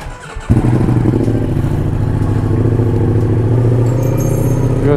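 A motorcycle engine cranks and catches after a jump start, then settles into a loud, steady close-up idle with no talk over it.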